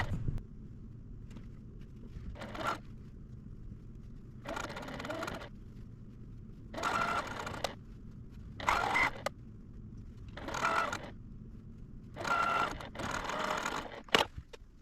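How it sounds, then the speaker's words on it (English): Short bursts of a sewing machine stitching quilt block rows together, roughly six separate runs of a few seconds each, separated by quiet pauses with faint handling noise. "I'm going to take them over to the sewing machine and make sure I line up my corner points"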